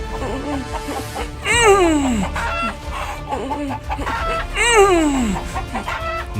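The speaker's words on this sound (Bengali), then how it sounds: "পাঁচু এক একটা মুরগিকে ধরে মেরে ফেলতে লাগলো।" Chickens cluck in a ghost-story sound effect, with two loud rooster-like crowing calls sliding downward amid the steady clucking of the flock.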